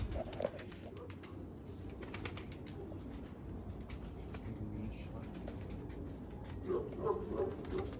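Tumbler pigeons coo softly in the background while people talk nearby, the low murmuring calls rising slightly toward the end.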